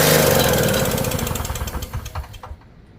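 A two-stroke Yard Machines snowblower engine, long unused, runs with a loud, rapid chugging beat that weakens and breaks up before cutting out near the end.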